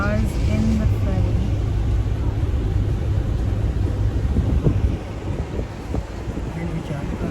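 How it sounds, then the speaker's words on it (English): Cars sit aboard a ferry in Goa under a deep, constant engine and vessel rumble, with gusting wind buffeting the microphone. The noise drops slightly partway through, and voices are present. "Cars in the ferry."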